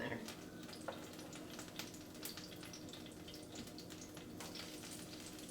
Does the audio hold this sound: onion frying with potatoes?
yes